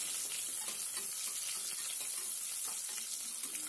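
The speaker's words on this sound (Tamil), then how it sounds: "பெரிய வெங்காயம் கொஞ்சம் நல்லா வதங்கிருட்டுங்க" Chopped large onion sautés in a pan for mint rice, giving a steady, close, hissing sizzle with light crackles and occasional stirring scrapes throughout.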